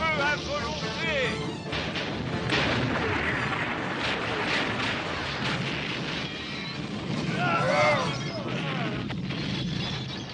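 Heavy cannon fire booms through a G.I. Joe animated battle scene, dense and continuous over clattering combat noise, with voices shouting over the barrage.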